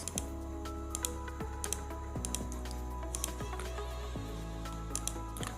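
Fingers tap on a mobile phone's touchscreen keyboard in a quiet room, a run of soft, irregular close-up clicks with short pauses between them.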